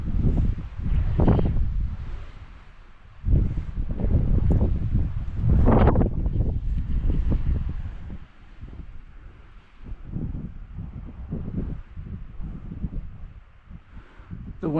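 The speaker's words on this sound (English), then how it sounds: "The wind is not too bad right now, but it's still blowing." Wind blowing across exposed Franconia Ridge on the Appalachian Trail, loud gusty buffeting on the microphone that rises and falls in surges over about fifteen seconds.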